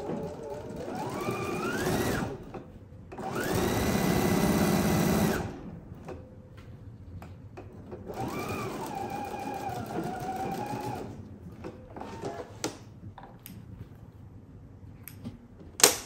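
A sewing machine stitches a quarter-inch seam on a fabric box pouch with a backstitch, in several whirring bursts separated by pauses, close and clear, followed by small handling clicks.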